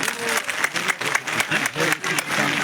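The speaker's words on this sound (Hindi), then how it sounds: "दोनों के लिए जोर से तालियां मारो" Loud, steady applause from a crowd at a National Conference political rally in D H Pora, continuous dense clapping throughout with some voices mixed in.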